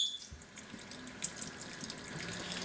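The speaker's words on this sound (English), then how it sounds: "we're going to go ahead and strain off the excess liquid" Excess liquid is strained off cooked tempeh as it is shaken, a faint steady trickle and splash of pouring liquid with a few small drips, close by and quiet, with no talking.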